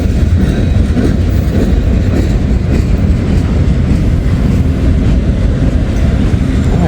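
A Norfolk and Western–led freight train rumbles steadily past in fog in Kentucky, a continuous loud low roar of wheels and rail with faint clickety-clack, close and constant throughout.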